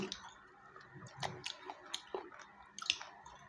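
Quiet close chewing and small mouth clicks while eating rice with fermented fish and catfish, soft irregular bites with no talking.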